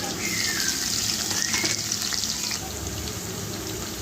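Finely chopped onions and tomato frying in oil for a cauliflower and potato curry, a continuous close sizzle with some stirring clatter and no voices.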